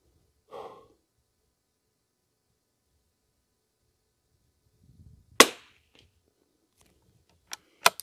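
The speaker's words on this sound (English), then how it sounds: "There's the first five shots at my try at 50 at 100." Rifle shots from a CZ455 Trainer fired at a 100-yard target: a single sharp crack in near silence, then two more quick cracks close together a couple of seconds later, with a soft breath earlier.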